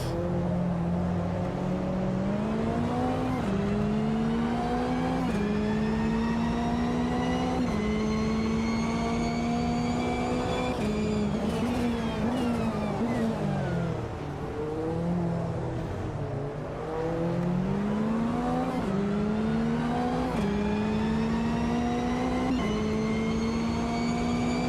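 Race car engines in the Automobilista 2 sim racing game rev and shift up repeatedly, rising pitch steps with a brief lift-off dip midway, loud and continuous with no talking.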